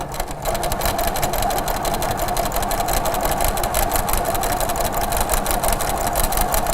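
A Little Rebel sewing machine from Grace Co. stitches along the binding edge of a quilted table runner, running in a loud, continuous, rapid mechanical whir from start to finish.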